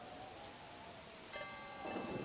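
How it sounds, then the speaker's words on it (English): Steady, faint rainfall in a Pokémon Mystery Dungeon video game, a soft continuous hiss of drops, with a thin tonal game sound entering partway through. "It's rain. It's the rain they talked to me about"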